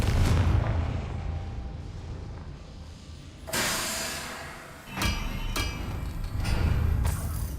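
A Confringo spell explosion in Hogwarts Legacy on PS5, heavy booming blasts and bursts layered over continuous rumbling game combat noise, loud and close, with a sharp impact near the middle followed by further rolling explosions.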